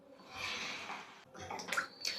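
Water pours steadily into a pan of murrel fish curry for about a second, pauses briefly, then splashes again in short, quiet bursts.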